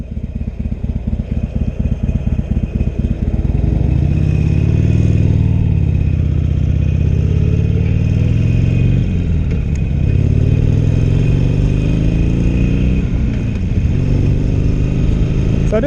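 A Harley-Davidson Iron 883 motorcycle is ridden, its loud, close engine thumping at idle before pulling away, then droning steadily with rising and falling revs through gear changes.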